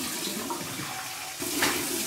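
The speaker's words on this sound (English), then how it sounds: "Okay, cold water rinse." Cold tap water runs steadily into a sink for a rinse during a wet shave, a close, continuous splashing hiss that grows briefly louder near the end.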